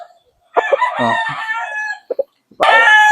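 A derby-size rooster crows loudly nearby, a long harmonic call followed by a second crow starting near the end, with brief clucks between.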